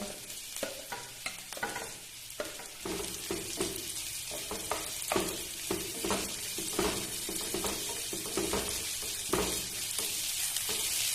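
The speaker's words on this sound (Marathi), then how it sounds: "फोडणीसाठी मी मोहरी टाकते आणि या ठिकाणी कापून घेतलेला कांदा लसूण आणि हिरव्या मिरच्या" Mustard seeds, chopped onion, garlic and green chillies sizzle and crackle in hot oil for a tempering, with steady frying hiss and repeated stirring scrapes throughout.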